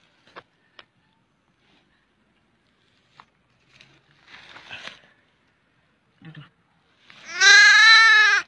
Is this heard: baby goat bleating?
yes